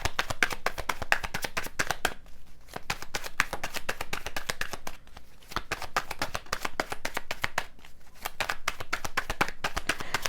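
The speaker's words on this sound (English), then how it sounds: "While I'm shuffling" Tarot cards being riffled and shuffled over and over, a dense crackling flutter broken by brief pauses, close and clear with no talking.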